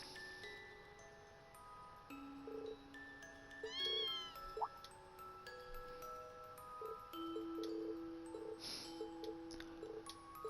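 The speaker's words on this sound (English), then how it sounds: "No, I'm not making cat noises." A cat meows repeatedly, rising and falling calls spread across the stretch, fairly faint against a quiet background with a few light ticks.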